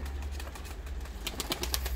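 Soft pigeon cooing close by in a pigeon coop, with a few quick flutters of wings near the end and a low background hum.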